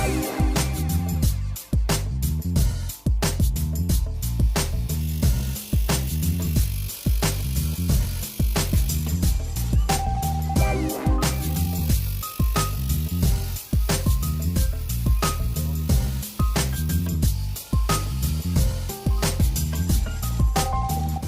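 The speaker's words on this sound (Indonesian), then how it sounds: "Belum ada as penggantinya, kita poles dulu sementara ya." Shaft of a Yamaha Thor shock absorber being polished with a powered tool: a loud, continuous motor whine and grinding hum with repeated brief dropouts and surges as the tool is pressed and lifted, sustained for the whole stretch.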